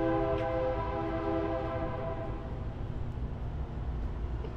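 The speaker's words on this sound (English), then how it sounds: "You can hear that train" A train rumbles steadily close by with a sustained tonal horn or bell ringing over it early on, then the low roar continues alone.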